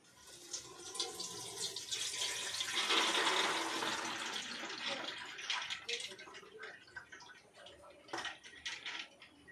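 Water pours and splashes as soaked, swollen chana dal is drained through a perforated plate, a loud rushing gush that tapers into scattered drips and trickles.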